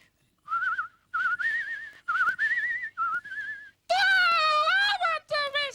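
A person whistles in a kitchen with a bright, wavering tune in several short phrases separated by brief pauses, then switches to a louder, fuller, voice-like warbling tone near the end.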